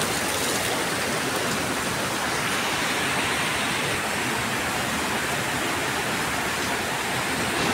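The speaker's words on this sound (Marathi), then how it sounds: "बघा हे बघा काय ते पाणी येते मोठं" Heavy monsoon rainwater in Konkan rushes fast in a dense, constant roar, loud and close with no pauses.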